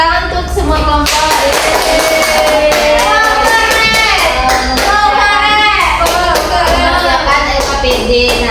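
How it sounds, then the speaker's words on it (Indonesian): A primary-school classroom breaks into sustained group applause, steady dense clapping from many children lasting several seconds, loud and close, with a few voices mixed in. "tepuk tangan untuk semua kelompok"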